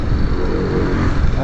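A very small motorcycle's engine running close by with a steady buzzing drone, brief and fairly loud.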